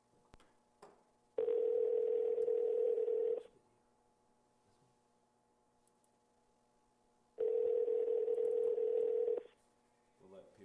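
Telephone tones sound while a call is placed to a guest: two long, steady, loud tone bursts about two seconds each, separated by a few seconds of quiet line hum.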